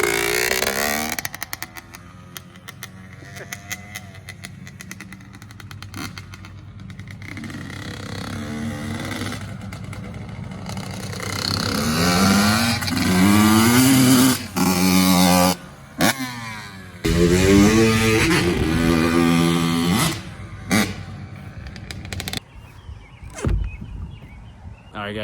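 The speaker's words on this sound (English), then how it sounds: "here's some clips of my dad riding the bike around" A Yamaha YZ85 dirt bike is ridden around, its small two-stroke engine buzzing and revving up and down, rising and falling as it passes near and far, with voices talking at times.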